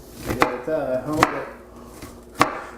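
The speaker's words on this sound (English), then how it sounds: "If you cut it like this, the way I'm doing right here, it makes a fine chop when you cut it up" A sharp knife chops through an onion on a board, three crisp distinct cuts spaced about a second apart, close and clear with no talking.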